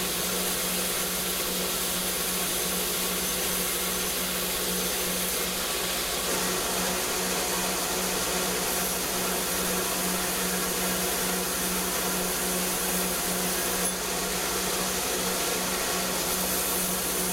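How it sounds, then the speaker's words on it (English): A belt grinder running a coarse, roughly 60 grit belt for the final grinding of a razor blade, a loud steady whirring drone with a constant hum underneath, continuous throughout and without talk. "So now I'm starting the final grinding."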